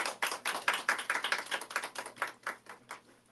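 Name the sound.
round of applause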